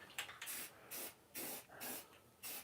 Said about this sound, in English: I knew I was going to have to spray the edge